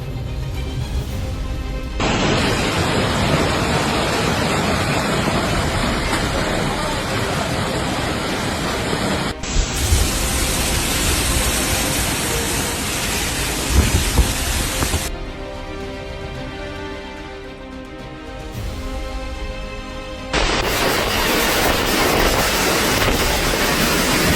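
A destructive storm hits Balatonfüred, Hungary, with a dense, steady roar of wind and heavy rain. The loud wash of noise runs in several abruptly cut stretches.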